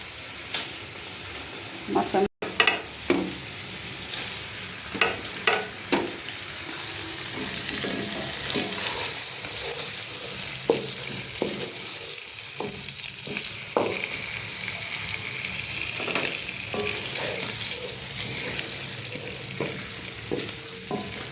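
Fish bones sizzle and fry steadily in a pan with a vegetable mix, with repeated scraping knocks as they are stirred; a voice speaks now and then over the continuous crackle.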